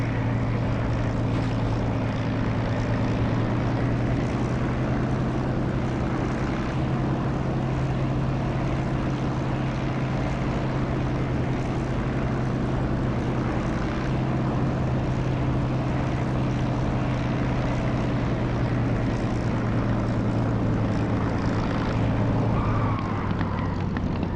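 A simulated aircraft engine landing in the DCS flight game, a loud, steady propeller-like drone with a constant low hum lasting throughout.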